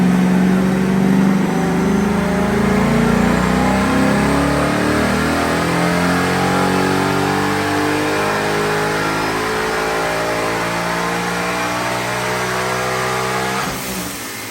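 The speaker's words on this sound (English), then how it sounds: "it is ready to go wide open throttle on the dyno" A supercharged 2021 Ford Mustang Mach 1 V8 roars through a wide open throttle dyno pull, its pitch climbing steadily for about fourteen seconds before abruptly cutting off, loud and close.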